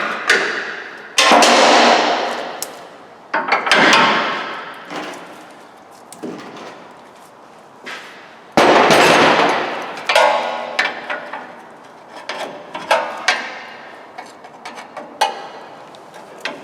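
A Toyota Tacoma strut is hammered and pried out of the lower control arm: sharp metallic blows strike at irregular intervals, some loud and ringing, others lighter taps and scrapes, close up with no talk.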